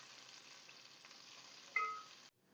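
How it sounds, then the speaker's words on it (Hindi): Onions fry in a pan for a chicken pulao, giving a soft, steady sizzle at low level for about two seconds before it cuts off abruptly. "प्याज को इतना फ्राई करेंगे कि इसका कलर लाइट गोल्डन हो जाए"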